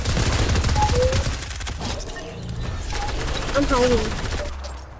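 Fortnite gunfire, a fast rattling volley at the start then scattered shots through a noisy game mix, with a person speaking briefly over it.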